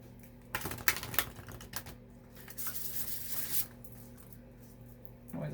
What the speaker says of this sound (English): I feel like I want to riffle shuffle this one.